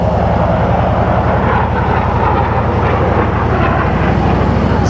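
A jet aircraft roars steadily overhead, its broad rushing drone blended with a loud, constant motorcycle engine and wind noise on a Scottish road.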